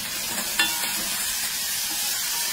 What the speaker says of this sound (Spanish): Luego agregamos el ajo y el ají. Este se sofríe por aproximadamente 2 minutos.